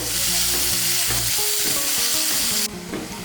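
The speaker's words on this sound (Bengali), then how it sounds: "পেঁয়াজ কুচিটাকে তেলের সঙ্গে মিশিয়ে নেব। মিশিয়ে নিয়ে লাল করে ভেজে নেব।" Chopped onion fries and gets stirred in oil for a soybean and pointed gourd dish, a close steady sizzle with stirring scrapes that drops in intensity near the end.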